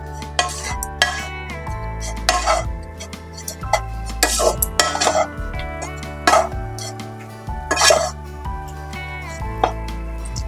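A spoon or spatula stirs and scrapes karanji filling mixed with cardamom powder in a metal pan, with repeated close clinks and knocks against the pan in an irregular rhythm, over a steady low background hum.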